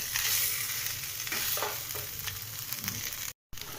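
Potatoes fry in a pan while being stirred, giving a continuous close sizzle with soft scraping strokes and a brief dropout near the end.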